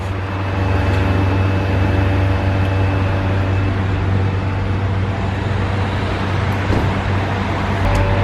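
A diesel fuel pump fills a car at a filling station, a steady loud whirring hum with a constant low drone and faint hiss running unbroken throughout, no voices.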